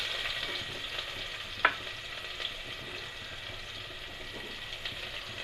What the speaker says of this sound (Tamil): வெங்காயம் நல்லா பொன்னிறம் வர வரைக்கும் வதக்கிக்கலாம்